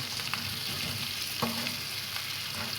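Potato varuval fries in a pan with a steady, close sizzle, broken by a few light scraping stirs as the pieces are turned, with no talking.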